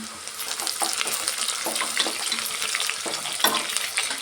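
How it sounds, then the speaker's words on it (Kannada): Curry leaves dropped into hot oil over cut onions crackle and sizzle steadily up close, with bursts of spattering and stirring scrapes throughout and no talking. "ಈಗ ಸ್ವಲ್ಪ ಕರಿಬೇವಿನ ಸೊಪ್ಪು ಸೇರಿಸ್ತಾ ಇದ್ದೀನಿ"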